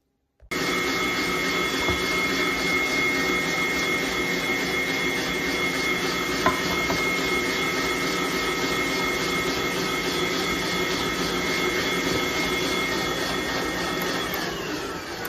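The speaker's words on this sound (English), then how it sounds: "Word to the wise, slow down the mixer before you add the flour." An electric mixer beats banana bread batter with a steady close motor whine and hum, switched on near the start and running loud and unbroken, with no talk.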